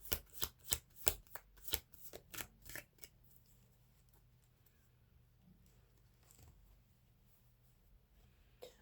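Tarot cards shuffled by hand in quick, crisp riffling bursts for about three seconds, then only faint, sparse rustles and handling sounds close by in a quiet room.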